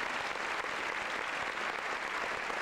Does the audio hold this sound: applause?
yes